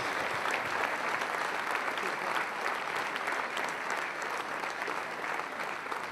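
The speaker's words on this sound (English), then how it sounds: "Please join me again in giving another round of applause to Senator Cruz" A banquet audience applauds Senator Ted Cruz at an annual awards event, sustained, dense clapping from many hands that fills the hall evenly for several seconds.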